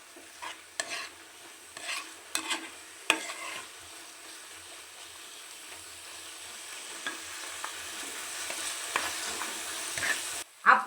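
Chopped shallots fry with ginger and mustard for a breadfruit and dried shrimp masala, giving a quiet, steady sizzle that swells slowly, with scattered spatula scrapes and taps, some clustered early and a louder clatter at the very end; nobody talks.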